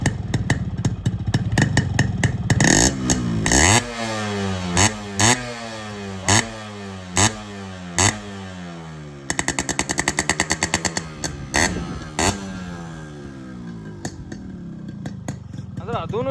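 A Yamaha RX 100 two-stroke motorcycle with its stock 6-hole silencer idles and revs nearby, a rattly engine note that rises in repeated sharp blips between steadier stretches, with someone speaking over parts of it.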